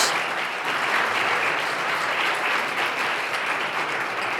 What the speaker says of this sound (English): So give a round of applause for everybody on the panel.